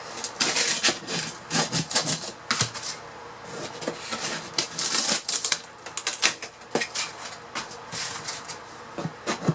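Wall panels being ripped out of a 1974 Silver Streak Reno trailer, with repeated sharp tearing, scraping and cracking bursts of close, loud rough material noise and no speech.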